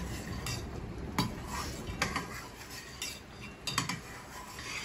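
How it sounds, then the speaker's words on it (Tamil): Mysore Pak mixture is stirred in a pan, with a spoon scraping and knocking against the metal in an irregular rhythm over a faint sizzle, close and fairly quiet, with no voices. "இது கிளறணும், அதை எடுத்து எடுத்து ஊற்றணும்"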